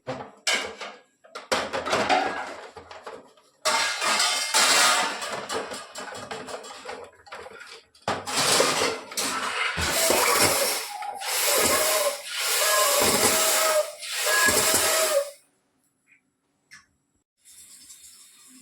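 A home soda maker carbonating water for cumin soda: mechanical clicks and ratcheting, then a series of loud hissing gas bursts in quick succession, ending abruptly in near silence.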